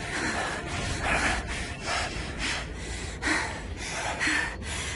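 Running people pant with loud, heavy breaths in a steady, rapid rhythm of repeated rasping inhales and exhales, close and continuous throughout.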